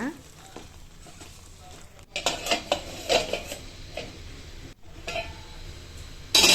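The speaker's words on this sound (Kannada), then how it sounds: "ಈಗ ರವೆ ಹಾಕ್ಕೊಂಡು ಈಗ ಕಾಯಿ ತುರಿ ಕೊತ್ತಂಬರಿ ಸೊಪ್ಪು ಇದನ್ನು ತಿರುಗಿಬಿಟ್ಟು ಒಂದು ನಿಮಿಷ ಮುಚ್ಚಳ ಹಾಕಿ ಮುಚ್ಚೋಣ" Capsicum and green peas upma being stirred in a pan with semolina, grated coconut and coriander, giving scraping, clinking utensil strokes and light sizzling in irregular bursts, close by, without speech.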